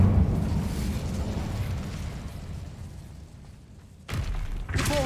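A fiery spell blast in Hogwarts Legacy: a low rumbling burst fades over several seconds, then a second sudden explosive whoosh erupts near the end.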